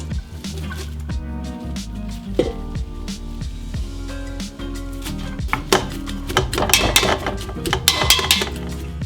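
Endive is mashed into potatoes in a pan, giving repeated soft squishing thuds and metallic clinks of the masher against the pan, growing busier and louder toward the end.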